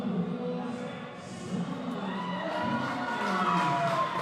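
Crowd cheering and shouting in support of a junior female boxer at an amateur boxing championship ringside, a steady wash of voices and calls that swells and holds across the moment.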